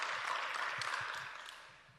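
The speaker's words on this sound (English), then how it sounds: "Give her a round of applause for that last message." Audience applause at a climate change provincial workshop in North West, a soft, moderately distant round of clapping that fades gradually toward the end.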